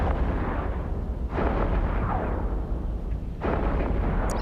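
Heavy weapon barrage in the EVE Echoes space game, a Black Ops Machariel battleship firing on a Typhoon, loud continuous rumbling blasts with booming explosion surges that swell and recur, no speech.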